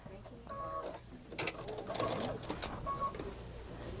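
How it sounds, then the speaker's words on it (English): A sewing machine stitching the top part of a decorative fabric piece, its mechanical whir running in short bursts close by, mixed with brief humming tones and light handling noise. "I'm just going to sew a little bit"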